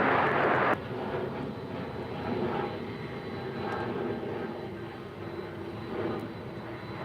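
A UPS Boeing 757 jet at DFW airport gives a broad, steady engine roar with a louder burst at the start, then a sustained moderate drone heard from a distance.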